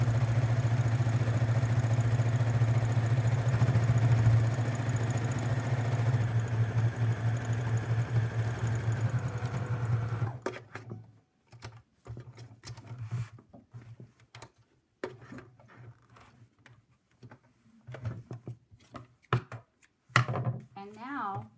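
A sewing machine stitches across the bottom of a small purse made from a denim skirt, giving a steady loud motor hum for about ten seconds. It then stops, leaving scattered faint clicks and handling noises.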